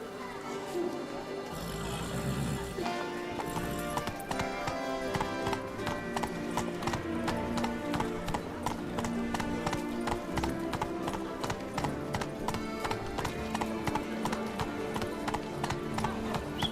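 Horse hooves clip-clop at a steady, repeating trot as Roach carries the rider in The Witcher 3, the regular beats continuing under a busy musical score with a voice talking partway through.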